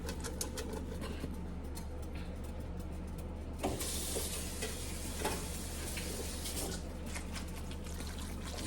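A pan of kale, chicken and turkey sausage alfredo sauce simmers and sizzles steadily, with a brief stir or clatter partway through and a constant low kitchen hum underneath.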